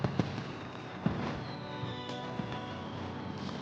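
Fireworks on New Year's Eve crackle and pop continuously, with several sharper bangs standing out over a dense, steady roar of bursts.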